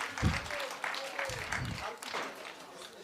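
An audience at the official opening of the Bethanie Youth Expo 2024 applauds in a steady patter, with a person talking over the clapping.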